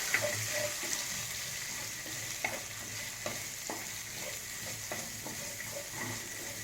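Onions and green chillies fry in a pan for a potato roast, making a steady close sizzle with occasional light scrapes and taps of a stirring spoon, and nobody speaks.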